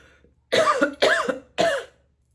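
Three harsh, forceful coughs in a row, close and loud, each a short burst with a brief pause between, followed by quiet.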